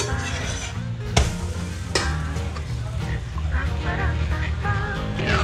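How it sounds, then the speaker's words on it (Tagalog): A coconut milk mixture for maja blanca is stirred in a pot on an unlit stove, the utensil scraping and swishing steadily with a few sharper knocks against the pan. "Mix ko lang ito muna."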